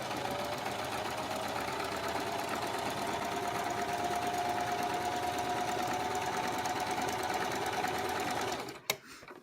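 A sewing machine runs a straight stitch at normal tension and zero stitch width, whirring steadily and close for several seconds before stopping just before the end.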